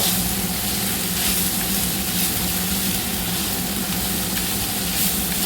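Tomato chutney frying in oil in a pan, a steady loud sizzle and hiss running continuously throughout with no voices.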